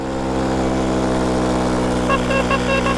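A tuned moped engine strains uphill with a steady, buzzing drone that holds nearly level and close, then a faint rising rhythmic whine creeps in near the end.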